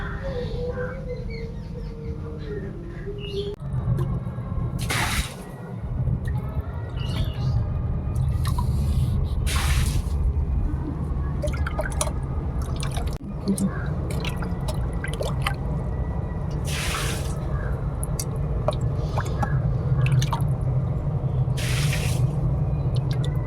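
Water is drained from a container holding caught magur catfish after heavy rain, giving steady trickling and dripping with intermittent splashes and squishy wet sounds, close by and continuous, with no talking.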